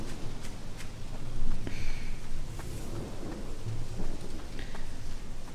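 Steady rainfall with low rumbling thunder in the video game Pineview Drive, a continuous wash of rain with a few swelling rolls of thunder and faint footsteps, no talk.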